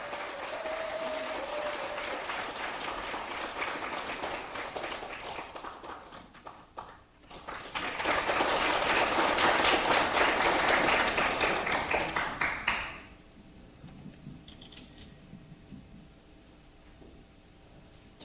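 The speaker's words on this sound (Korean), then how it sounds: "뜨거운 박수로 맞아주시기 바랍니다." A large party-convention audience claps warmly to welcome a party leadership candidate, with loud, steady applause swelling in the middle and then dying away into quieter room noise.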